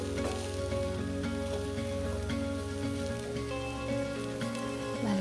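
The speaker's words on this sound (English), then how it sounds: "So we're going to fry that off for a good couple of minutes." Leeks frying in a pan for a lamb pot pie give a steady, crackling sizzle that runs throughout, partly mixed with tonal background music.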